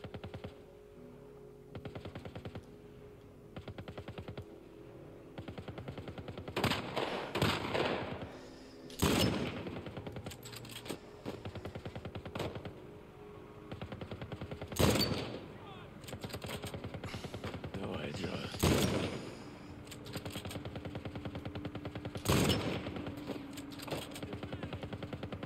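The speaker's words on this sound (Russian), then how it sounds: "Где там что-то по ним-то стреляет, я не вижу." Gunfire in The Last of Us Part I, suburb setting: scattered loud shots and short bursts ring out at irregular intervals over a low ambient background, each crack sharp and isolated.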